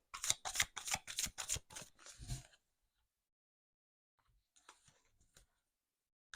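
A deck of Modern Love Tarot cards is shuffled, giving a rapid run of crisp riffling flicks up close, then quiet, then a few faint soft card sounds.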